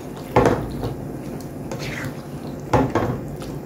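A spoon stirring salt mackerel rundown in a pot, Jamaican style, with two distinct clanking scrapes against the metal a couple of seconds apart over a soft bubbling background.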